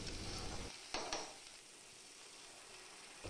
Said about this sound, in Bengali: তাই সামান্য একটু নুন আর একটু সামান্য হলুদ দিয়ে আবারও ভালো করে একটু কষিয়ে